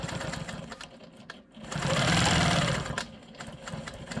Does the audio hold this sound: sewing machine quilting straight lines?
yes